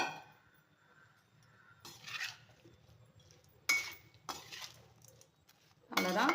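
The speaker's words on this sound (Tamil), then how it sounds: "இப்போ இதை அப்படியே கலந்து விட்டுக்க வேண்டியதான்" A spoon scrapes and clinks against a metal vessel while lemon rice is mixed, in a few separate bursts of stirring with quiet pauses between them.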